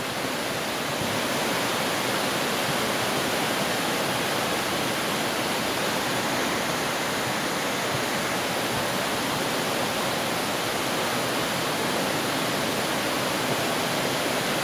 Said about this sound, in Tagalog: Kung narinig niyo nung tunog ng bubong.